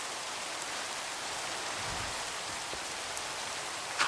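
Steady rain falling, a faint, even hiss of drops on a surface with no break throughout and a single small tap near the end.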